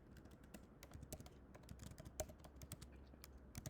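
A prompt being typed on a computer keyboard: a quiet, steady run of light key clicks at an irregular pace, close by, with no voice over it.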